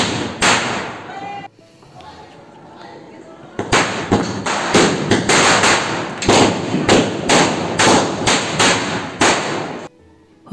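Diwali firecrackers bursting in rapid irregular bangs, loud and close, with a short quieter gap before a dense run of sharp pops.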